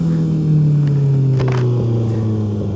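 A Suzuki Hayabusa motorcycle accelerates hard in first gear on the road, its engine note rising as a loud, close, steady roar, with no talking.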